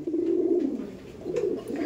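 Kabji pigeons in a loft give low, throaty coos, one long rolling call then a shorter one after a pause, fairly close and clear with no talk.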